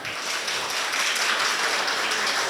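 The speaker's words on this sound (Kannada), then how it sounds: "ಯಾವ ಸೈಡಿಂದ ಜಾಸ್ತಿ ಚಪ್ಪಾಳೆ ಕೇಳಿದ್ದು?" A college festival audience at a mall applauding together, a dense, even wash of clapping that holds steady for a couple of seconds.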